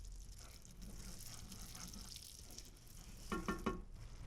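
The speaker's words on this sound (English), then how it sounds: "I stir the butter and brown sugar until both are melted and bubbling." Butter and dark brown sugar melting and bubbling in a sauté pan while stirred, a steady soft sizzle throughout with a few louder scraping stirs near the end.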